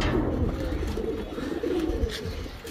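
Several pigeons cooing close by, low rolling calls overlapping continuously against a noisy outdoor background.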